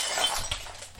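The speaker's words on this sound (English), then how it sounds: "Darian's light fixture just came off of his ceiling and shattered all over the ground" A ceiling light fixture crashing to the floor and shattering, a loud close burst of breaking glass followed by scattered tinkling shards over about a second.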